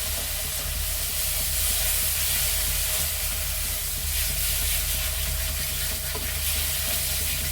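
A spice paste for a tengra fish curry fries in a pan with a steady, close hiss and sizzle and occasional stirring, and no voices are heard.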